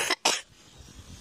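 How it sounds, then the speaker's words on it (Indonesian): Two quick, close coughs in rapid succession, dry and fairly loud, followed by faint background noise. "Batuk juga nih hampir."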